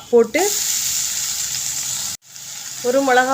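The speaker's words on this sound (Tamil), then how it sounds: "இப்போ ஜீரகம் நல்லெண்ணெயில் தான் தாளிக்கணும்" Cumin seeds tempering in hot sesame oil for a Chettinad greens mandi, a steady close sizzle with a brief drop to near silence partway, and a voice speaking briefly at the start and end.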